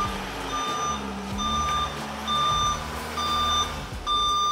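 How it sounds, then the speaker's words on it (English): An Amazon Prime delivery truck backs up to a front porch, its backup alarm beeping steadily about once a second over a rumbling idling engine nearby. "That is an Amazon Prime truck backing that up to our front porch."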